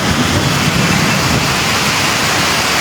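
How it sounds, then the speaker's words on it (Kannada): Heavy rain pours down in a steady, loud, dense hiss with no pauses, near Nagasandra metro station in Bengaluru. "ಸಖತ್ತು ಮಳೆ ಬರೀ ಹತ್ತೈದು ನಿಮಿಷಕ್ಕೆ"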